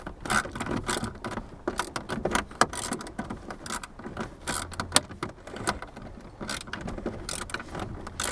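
A ratchet turns a socket on the blower motor resistor of a Jeep TJ, with close, rapid clicking and metallic rattles in irregular bursts.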